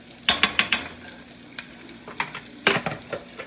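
Country Crock butter sizzles and spatters in a hot pan for fettuccine alfredo, with sharp bursts of crackling at the start and again midway, close and loud, fading between bursts.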